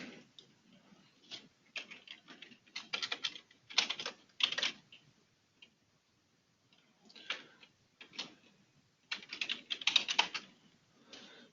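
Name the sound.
typing on a computer keyboard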